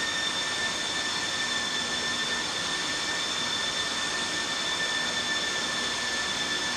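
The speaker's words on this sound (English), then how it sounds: "Another flyby, slow-mo flyby." A Boeing 747-200 freighter's jet engines drone steadily in a flight simulator, a continuous, even roar with a high whine on top and no talking.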